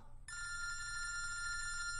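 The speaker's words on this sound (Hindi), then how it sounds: "फोन उठा, मेरा फोन उठा।" A telephone bell rings with a bright, sustained electronic trill, starting abruptly after a moment and continuing steadily at moderate volume.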